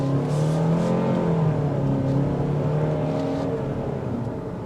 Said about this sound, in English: Engine does filter in kind of like a drone note.